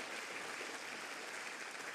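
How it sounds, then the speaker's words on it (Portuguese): A church congregation applauding for Jesus during a Portuguese-language service, a faint, dense, steady patter of many hands clapping at a distance. "dá mais uma salva de palmas para Jesus"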